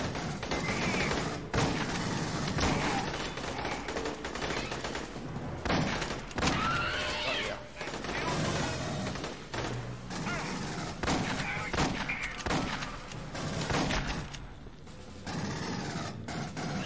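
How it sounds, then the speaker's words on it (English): Shotgun gunfire in the video game Aliens: Colonial Marines, loud repeated blasts and thuds in dense bursts throughout, mixed with game effects and some talk. "Getting a bit more used to the shotgun."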